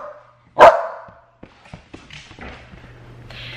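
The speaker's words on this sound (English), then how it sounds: "She sits there and barks at me" A dog gives one sharp, loud bark close by indoors, followed by soft thumps and faint movement sounds.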